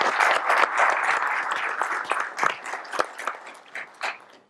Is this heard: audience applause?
yes